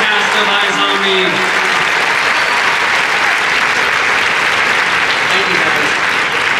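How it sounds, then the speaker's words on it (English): A large convention crowd at WonderCon 2015 applauds the cast and creators of iZombie with loud, dense, sustained clapping and some voices mixed in. "Please give a round of applause to the creators and cast of iZombie."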